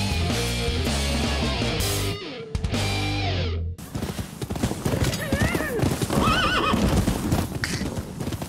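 A horse in the video game Rise of the Ronin whinnies loudly over steady clip-clopping hooves and game music, then a second, brighter neigh rises near the end.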